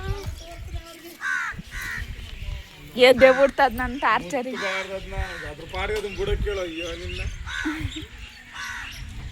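Several crows caw loudly nearby in repeated harsh bursts, mixed with people talking.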